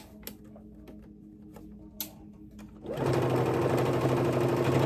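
A sewing machine stitches a pocket piece onto garment fabric, starting at about three seconds and running steadily and loudly to the end, after a few quiet clicks and small handling noises.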